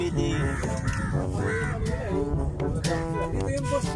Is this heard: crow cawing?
yes